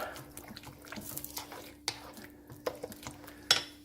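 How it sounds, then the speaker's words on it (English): A noodle dish is stirred in a pan, with a few soft scrapes and clinks of a utensil against the pan, close and fairly quiet, and a sharper knock near the end. "Then we stir."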